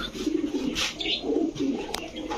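Pakistani Giribaz racing pigeons coo in a shop, soft repeated low coos heard up close with a faint chirp, with no one talking.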